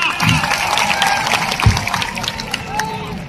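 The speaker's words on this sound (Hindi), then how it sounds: "जोरदार तालियां" Loud applause from a crowd at a World Tribal Day speech gathering, dense continuous clapping with some cheering and voices mixed in, close and sustained.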